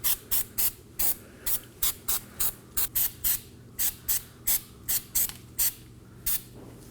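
Anti-seize spray applied onto the rear brake hub of a 2017-2024 Nissan Armada during a parking brake shoe job: around seventeen short, sharp aerosol bursts in a steady, quick rhythm, close and fairly loud, with no talking.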